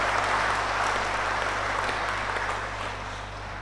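A congregation at a priestly ordination Mass applauds for the parents, a steady wash of clapping from a large crowd that fades slightly toward the end, heard over a low electrical hum.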